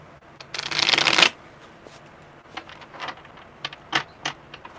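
Tarot cards are riffled in one loud, close burst of crisp flapping, then handled and tapped in a few softer, scattered clicks and slides.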